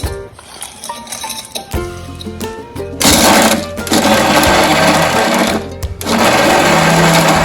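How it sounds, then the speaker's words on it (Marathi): Crab claws and shells rattle inside a mixer grinder jar, then the motor roars loudly into grinding with a harsh, continuous whir broken by a brief pause. "आता आपण हे पेंदे ठेवलेत ना आणि नांग्या ते ग्राइंड करून घेणार आहोत मिक्सरच्या भांड्यामध्ये"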